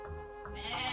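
Sheep bleat in the Age of Mythology real-time strategy game, a loud, close, wavering cry swelling toward the end of the short moment with no talk over it.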